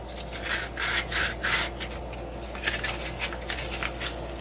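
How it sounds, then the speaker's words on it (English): A prop Rey lightsaber hilt from an Empress build is sanded to soften its scratches, giving a close series of quick, rhythmic scraping strokes, roughly three per second, with a brief pause in the middle. "And then give it a little bit of sanding."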